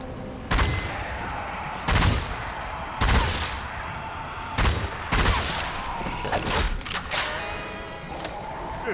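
A gun turret in Zombie Army 4 fires repeated heavy bursts at fairly regular intervals, each a loud booming blast over steady background noise, growing busier toward the end.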